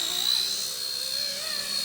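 A small WLToys V931 AS350 radio-controlled helicopter flies nearby, its electric motor and rotors giving a steady, high-pitched whine with a sustained tonal buzz throughout.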